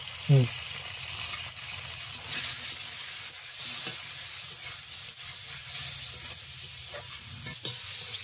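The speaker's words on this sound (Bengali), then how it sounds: "আমার আলু পটল ভাজা হয়ে গেছে, আমি উঠাই।" Potato and pointed gourd frying in a home kitchen pan, a steady soft sizzle with occasional stirring scrapes, heard alone at a moderate level.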